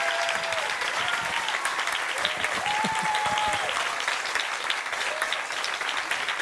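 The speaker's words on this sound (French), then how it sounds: "On applaudit Stéphane Laure, Jean-François Franceschini et Stéphane Acquaviva" Audience at the Université de Corse applauding three Master 2 students: dense, even clapping from a crowd, sustained throughout with no break.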